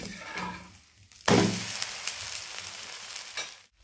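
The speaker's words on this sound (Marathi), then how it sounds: "कमी गॅसवरच भाजून घ्यायचं।" A green moong dosa roasts in oil on a hot pan over low gas, a soft sizzle that swells suddenly after a brief click and then holds steady and close to the end, with no talking.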